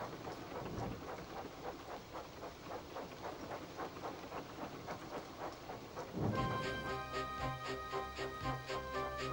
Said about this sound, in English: The rain streamed down Percy's boiler.